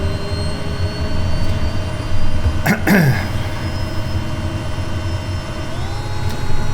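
A turboprop aircraft engine is advanced to high idle, producing a steady, loud drone with a sustained whine that rises in pitch near the end, broken briefly by a short rattling clunk midway.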